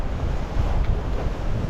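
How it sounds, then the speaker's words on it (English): Big waves surging against a boat moored close by, a steady broadband wash of surf with wind rumble on the microphone, loud and continuous without a break. "I know that there are going to be some big waves hitting it right now"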